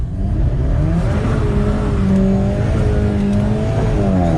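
An engine idles and hums steadily at close range as a car, an Alfa Romeo 4C or BMW M2 Competition, rolls slowly to park after a wet drag race, with a low whirring tone throughout and no voices.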